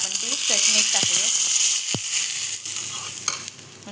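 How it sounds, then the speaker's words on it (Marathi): Dry red chilli chutney (Alibag style) stirred into a hot mustard-seed and curry-leaf tempering gives a close, steady sizzle with scraping stirs, while someone talks briefly at the start. "आता आपण ती चटणी टाकूया."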